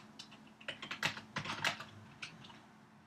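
Rapid bursts of keystrokes on a computer keyboard, close and fairly quiet, clattering in uneven clusters for about three seconds with no talking.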